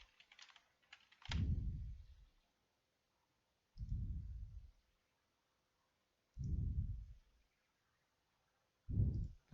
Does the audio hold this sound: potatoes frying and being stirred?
no